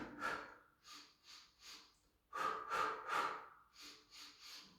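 Staccato breathing during the Pilates hundred exercise comes as short, sharp, rhythmic bursts of breath, close up: a run of four quick pulses, a pause, then another run of forceful exhalations.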